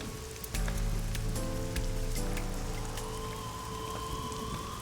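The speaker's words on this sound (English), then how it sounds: "This rain is depressing." Steady rain falls and patters across a city street in the video game AI: The Somnium Files, a continuous wash of drops with a low droning tone running underneath and no voices.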